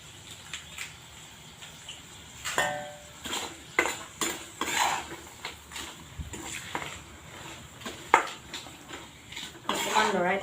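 Red chilli powder, cumin and coriander are stirred in a pan over a low flame, with repeated metal spoon clinks and scrapes against the pan, irregular and close, under light background noise.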